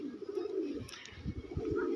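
Pigeons of Andra line and green line breeds coo softly in a series of low, rhythmic murmurs, faint and a little distant, with a brief higher bird chirp.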